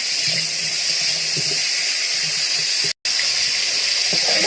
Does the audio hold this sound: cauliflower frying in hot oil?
yes